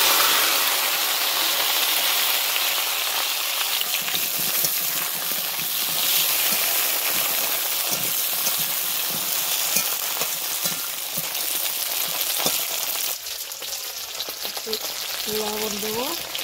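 Broad beans tipped into hot oil with cumin and black cumin seeds in a kadai, sizzling and frying steadily and loudly throughout, with stirring scrapes and a brief metallic clink near the end.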